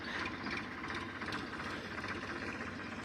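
An Eicher 551 tractor runs with a rotavator attached in a farm field, giving a steady, dense mechanical rumble with a rattling, clattering texture and no voices.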